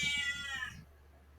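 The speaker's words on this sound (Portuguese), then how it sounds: "A Lula tá aqui miando" A pet cat named Lula gives a single drawn-out whiny meow up close, fading out into quiet room background.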